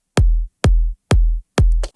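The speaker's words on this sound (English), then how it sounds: "Then we have the kick" Four evenly spaced, punchy kick drum hits from a slap house track, each with a deep booming low end and a short decay, played alone and loud.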